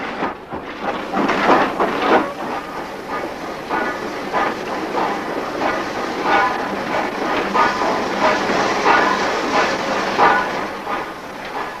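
A heritage train rolls gently over a change of points onto a parallel siding. A steady rumble of wheels runs throughout, with rhythmic rail clatter and faint hiss, and no one speaks.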